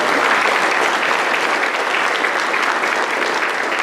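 A dense, loud round of applause from a large audience at a State of the City address, continuous and even throughout with no voices over it.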